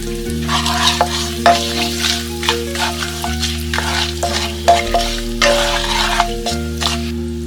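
Whole spices roasting in hot oil as half a spoon of asafoetida goes in, giving a continuous close sizzle with stirring scrapes and irregular crackles over a low steady hum.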